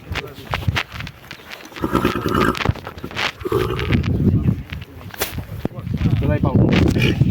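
Horses, including a stallion and mares, moving about, with hooves clopping and shuffling under steady conversation and farmyard noise.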